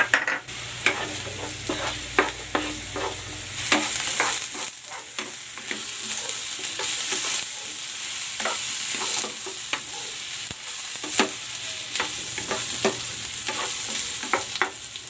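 Onions and garlic fry in a pan for a shrimp dish, a steady close sizzle broken by repeated spatula scrapes and stirring clatters, with no talking.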